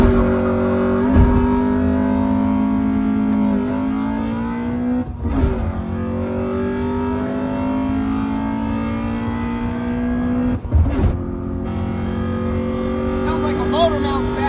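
A boosted car with a worn motor mount revs repeatedly, its engine tone rising and falling up close. Voices talk over it, and a few sharp thumps break in.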